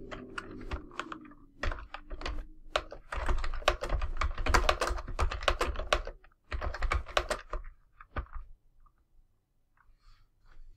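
Typing on a computer keyboard while entering a code comment during Python practice: bursts of rapid, close key clicks with short pauses between, tapering to sparse taps near the end, with no talking.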